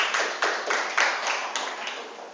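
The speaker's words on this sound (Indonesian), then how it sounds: "Beri tepuk tangan dulu untuk Vio." A sixth-grade class claps for a classmate, a handful of distinct claps in a loose, uneven rhythm from a small group, fairly close.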